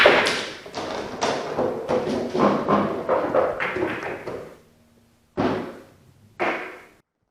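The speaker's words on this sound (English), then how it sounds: "apply bottom left spin on the cue ball, I can get the 1 ball to bank down here into this corner pocket" Pool balls knock together in a rapid burst of hard taps and thuds on a billiard table, followed by quieter gaps and two separate clacks as balls drop toward a corner pocket.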